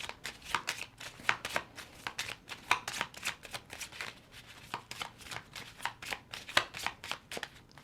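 Tarot cards being shuffled and pulled for a yes-or-no reading, a steady run of crisp riffling and flicking bursts, close and fairly quiet, with no talking.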